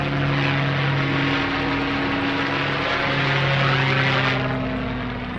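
Vintage WWII escort fighter flying at the Shuttleworth airshow, its propeller engine a loud, steady drone with a constant pitch that swells slightly and then eases off, with no talking.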